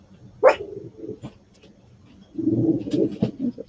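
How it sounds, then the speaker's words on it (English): Pet dogs barking at a neighbor indoors, with a sharp yelp followed by a burst of excited barking and muffled yapping, fairly close with no talk. "Sorry about my dogs."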